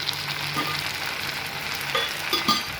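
A steady sizzle of brinjal gravy ingredients sautéing in a pan, with a few soft spoon scrapes and clicks near the end.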